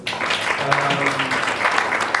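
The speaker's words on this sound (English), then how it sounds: "Can we give Prof another round of applause?" A round of applause from an audience seated at tables during a civic education session, steady dense clapping lasting a couple of seconds with a faint voice underneath.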